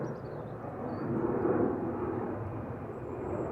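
An Airbus A330 passes at Dublin Airport, a broad rumbling jet roar that swells to a peak at mid-pass and then slowly fades, heard alone at moderate distance.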